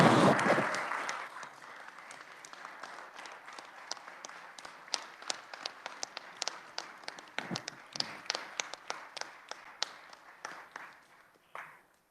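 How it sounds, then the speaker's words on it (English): A scattered round of applause in a state Senate chamber for visiting students in the gallery: a faint, distant burst that thins into irregular individual claps and taps before dying away. "let's give them a hand of applause"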